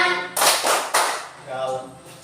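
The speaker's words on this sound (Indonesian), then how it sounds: "Kalau kau suka hati tepuk tangan." Children clap their hands in time to an action song at a Catholic religious education class, giving a few sharp, loud claps in a short rhythmic group, with singing voices around them.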